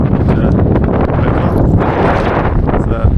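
Strong gusting wind on a cold mountain trail near White Mountain and Boundary Peak roars and buffets a microphone continuously, a dense low rumble with no clear speech.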